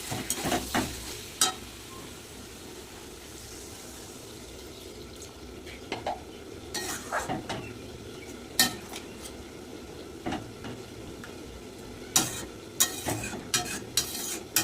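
Cauliflower and potato curry with spices stirs and sizzles in a pan: a steady frying hiss beneath repeated sharp clinks and scrapes of a utensil against the metal, near and fairly loud, with no voices.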